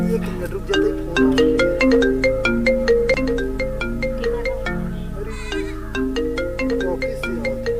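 A melodic phone ringtone plays repeatedly in a bright, rhythmic pattern, with faint background voices and hum underneath.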